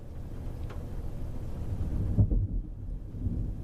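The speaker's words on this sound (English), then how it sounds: "just had a pretty big boom of thunder right there" A deep thunder boom breaks out during a storm, a heavy low rumble that swells sharply just past the midpoint, then fades into a soft storm background with no talking.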